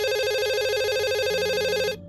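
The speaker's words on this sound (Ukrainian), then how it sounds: "Раптово телефон задзвонив" A telephone rings with a steady electronic trilling tone, loud and close, alone without voices, cutting off abruptly near the end.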